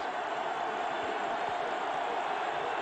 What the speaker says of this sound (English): Crowd starting to come up at that end of the field now, making more noise.